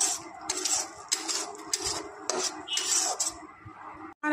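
A spoon scrapes and clinks steadily against a pan while cabbage bhorta is slowly stirred over low heat, a close, dry rhythmic rasping with no talk.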